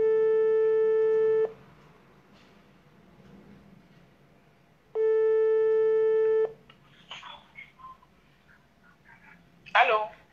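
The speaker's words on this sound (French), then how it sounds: "j'appelle cette fille qui veut parler" Ringback tone on an outgoing phone call: two steady, loud electronic tones about 1.5 seconds long, separated by a pause, followed by faint voices and a little rustle.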